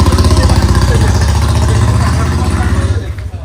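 Engines of vehicles running at a river ghat, a steady, close, rumbling drone that lasts throughout and eases slightly near the end.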